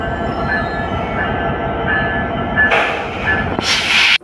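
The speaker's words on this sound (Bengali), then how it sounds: "ময়মনসিং থেকে ছেড়ে আসা একটি লোকাল ট্রেন ইতিমধ্যেই জয়দেবপুর রেলওয়ে স্টেশনে প্রবেশ করছে" A local train from Mymensingh pulls into Joydebpur railway station with a steady rolling rumble and repeated faint squeals, then two loud bursts of hissing air near the end.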